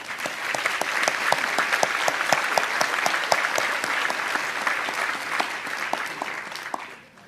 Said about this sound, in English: So you are deserving of the first round of applause from this address.